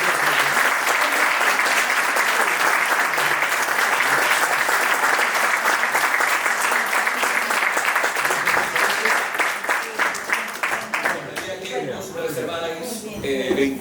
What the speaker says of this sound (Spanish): Me encantaría que le aplaudieseis,